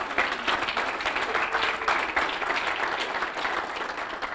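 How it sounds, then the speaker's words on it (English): Applause from a conference audience at a tech meetup, steady dense clapping from a roomful of people at moderate level, continuing throughout with hardly any voices. "A round of applause for Jelmer"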